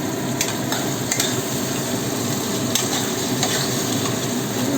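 Onion and tomato with a little turmeric fry in a pan, giving a loud, continuous sizzle with occasional stirring scrapes and no voices.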